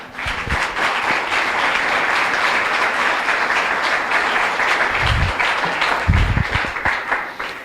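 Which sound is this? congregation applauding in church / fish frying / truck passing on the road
congregation applauding in church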